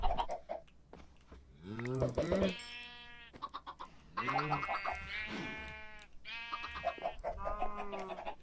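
Video game farm animals, chickens clucking in short rising calls mixed with bleating sheep or goat sounds, moderately close and fairly quiet, with a voice talking intermittently in between.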